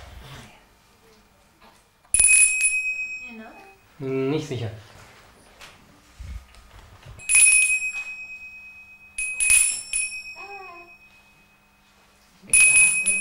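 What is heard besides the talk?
ringing a bell during an infant development test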